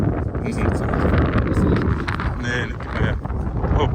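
Strong gusty wind of around 40 km/h buffets the microphone at an airfield, a loud continuous roar with swelling gusts, while people talk over it.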